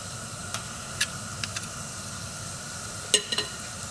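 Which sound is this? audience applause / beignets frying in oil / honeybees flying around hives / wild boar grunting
beignets frying in oil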